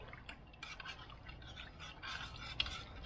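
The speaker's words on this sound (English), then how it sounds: "I'm gonna stir that around in there real good" A spoon swirls through stock in a cooking pot, giving faint, close sloshing and liquid stirring with light scrapes and drips, low in level.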